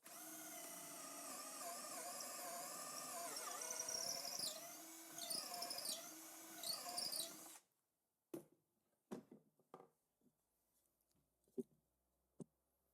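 A Bosch cordless drill set to drilling mode in second speed whines steadily for several seconds, its pitch dipping as the bit bites into the workpiece, then stops, followed by scattered close clicks and handling knocks.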